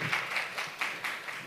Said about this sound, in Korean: 다시 한번 그 발표를 해주신 정 박사님께 큰 박수 부탁드립니다